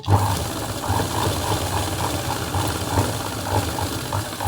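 Sewing machine stitching a decorative cut on a dress, a continuous close mechanical whirr with a rapid, even pulsing beat throughout and no talking.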